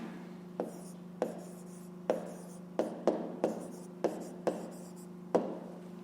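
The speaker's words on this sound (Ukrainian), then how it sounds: "записуємо відповідь, пишемо відповідь" Pen or pencil strokes on paper as a math answer is written out by hand, about ten short, crisp scratching taps in an irregular rhythm, close and quiet over a steady low electrical hum.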